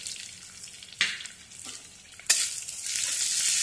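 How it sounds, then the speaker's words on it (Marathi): Ground garlic and coconut paste frying in hot oil with cumin, a soft steady sizzle broken by a few sharp stirring scrapes, growing louder and fuller toward the end. "गॅस थोडा आपण वाढवू, म्हणजे हे लसूण खोबरे पण चांगले परतले जाईल।"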